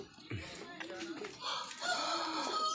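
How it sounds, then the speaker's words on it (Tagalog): Fighting cocks in a backyard coop give off crowing and clucking, fairly close, with a person talking over part of it. "Tapos nandoon po pa yung mga barako niya."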